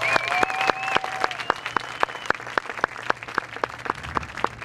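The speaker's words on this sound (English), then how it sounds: "So a round of applause for Mrs." Applause from a band camp audience for a departing helper at a Mill Creek marching band gathering, a thin, sparse scatter of individual claps with sharp separate hand strikes rather than a dense roar, steady for several seconds.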